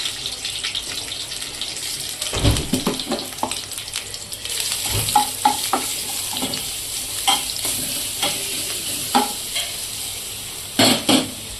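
Mustard seeds, cumin and ginger garlic paste fry in a pan for veg fried rice, making a continuous crackling sizzle with many quick spatter pops and periodic scraping stir strokes and knocks, close by and loud, with no one talking.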